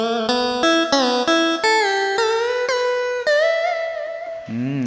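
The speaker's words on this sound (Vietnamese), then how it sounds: "Vậy chúng ta sẽ ra thử tiếng guitar cổ nha." A Kurtzman SV800 electronic organ sounding its old guitar voice, a run of about nine plucked notes with bright sustained tones, each struck cleanly and close, ending on a lower note.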